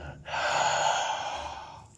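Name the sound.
deep breathing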